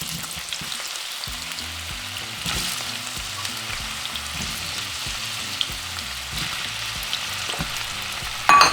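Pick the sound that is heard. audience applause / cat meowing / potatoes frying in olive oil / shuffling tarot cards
potatoes frying in olive oil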